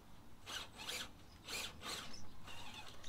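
Cheap brushed 540 motor on an RC rock crawler grinding over rock, with several short, faint raspy bursts of tyre and gear scraping.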